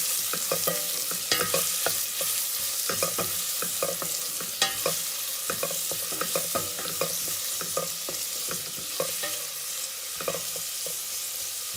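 Onions sauté in a pan for a Mangalorean crab curry, a steady close sizzle broken by frequent sharp scrapes and clicks of a spoon stirring against the pan throughout.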